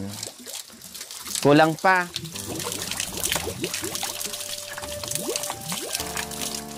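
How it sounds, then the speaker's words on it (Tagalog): Water pours and trickles steadily in the background while people talk nearby, with a brief louder splash early on. "maririnig mo yung ingay ng tubig"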